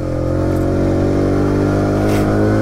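A Daytona Hobby 50 motorcycle engine hums loudly and steadily while being ridden, its buzzing pitch climbing slightly as it pulls through the gears, with no talk over it.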